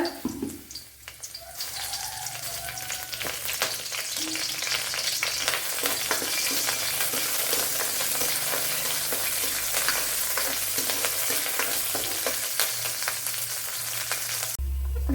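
Curry leaves, garlic cloves and a small piece of ginger frying in hot oil in a pan for sambar: a loud, steady sizzle that goes on throughout, with no talk.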